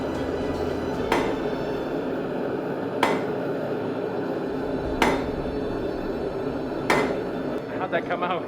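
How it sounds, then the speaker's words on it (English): A hammer strikes steel at a forge in four sharp, evenly spaced taps about two seconds apart, heard over steady workshop noise, with a voice briefly at the end. "It gets a little more refined, and you just need small taps."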